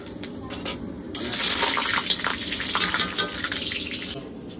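Water pours into a pan of fish curry with potatoes, making a loud, close rush and splash that swells after a quieter start and runs steadily to the end.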